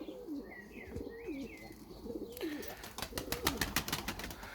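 Domestic pigeons coo in soft, repeated throaty phrases close by, joined later by sharper chirps and flutters from other birds in the loft.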